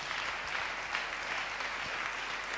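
An audience at a church talk for young single people breaks into applause, a continuous, even wash of many hands clapping at moderate distance with no voices over it.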